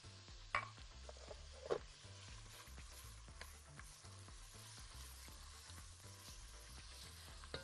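Chopped onion fries in melted butter and oil in a pan, a soft, steady sizzle with a couple of light utensil knocks, quiet and close, no voices.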